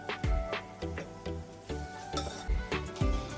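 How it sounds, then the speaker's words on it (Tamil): A spoon stirs salted tomatoes frying in oil in a pan for homemade chicken biryani, giving repeated clinking scrapes against the metal at a steady rhythm over a soft sizzle, close and alone. "கொஞ்சம் கிளறிட்டு"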